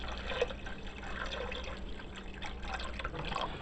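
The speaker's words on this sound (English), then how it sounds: "she's putting more water in." Water pouring into a cooking pot for a Belizean crab stew, a soft, continuous trickle and splash with faint drips, quiet and fairly close, no talking.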